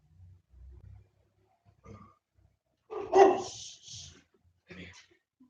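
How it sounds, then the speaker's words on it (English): A pet dog barking indoors in a home during a workout, a few sharp barks spaced apart between quieter low thumps and grunts, fairly close. "My dog thinks I'm an intruder."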